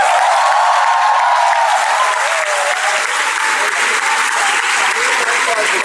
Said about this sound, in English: clapping at the right place and right time for the right period of time